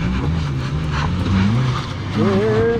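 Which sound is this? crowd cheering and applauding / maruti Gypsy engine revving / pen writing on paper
maruti Gypsy engine revving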